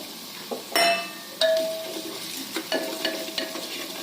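Onion and green chilies sautéing in a pan, a soft sizzle under a few sharp metallic clinks and scrapes of a spoon against the pan, close up and moderate in level.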